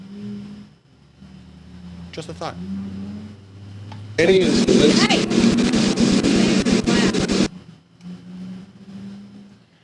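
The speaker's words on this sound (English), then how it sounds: "Someone's having a good time in their loud car outside." A car engine roars and revs loudly outside for a few seconds, drowning out quiet talk before and after it.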